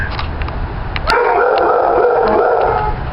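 A shelter dog gives a few quick yips and barks, then a longer whining howl, close and loud, with no talking.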